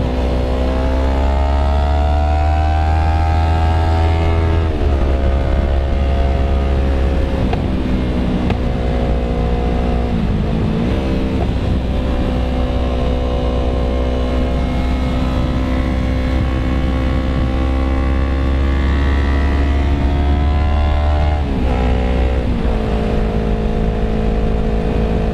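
A Yamaha YZF R3 sport bike's engine and exhaust drone loudly and steadily up close, with revs climbing and dipping through a few gear changes over a continuous ride.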